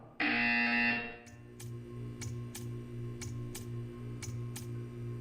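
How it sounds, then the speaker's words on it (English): A loud, harsh buzzer in Portal 2 blares for about a second, then a steady low hum continues with a series of sharp ticking clicks at irregular intervals. "You will hear a buzzer."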